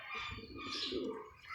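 Yellow flying pigeons coo softly in a short, faint burst, with a few chirps and a brief flutter of wings nearby.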